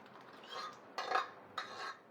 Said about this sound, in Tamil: கடைஞ்ச பருப்பை ஊற்றிடுவோம்.